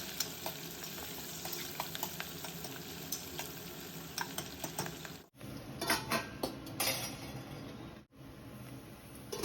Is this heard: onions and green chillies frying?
yes